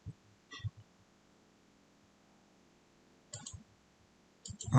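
Computer mouse clicks while working in Solidworks CAD software: a few sparse, close, soft clicks in small clusters with quiet gaps between, no talk.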